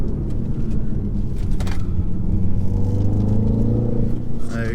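A 2020 BMW X2 M35i accelerates hard on the road, its engine rumble rising steadily in pitch through the gears, heard from inside the cabin.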